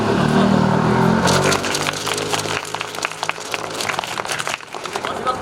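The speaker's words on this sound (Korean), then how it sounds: "현역반인 후보자님들께 박수 한번" Applause from an audience greeting candidates at a 2021 student council election joint campaign rally, a dense steady patter that thins after a moment while a voice carries on over it.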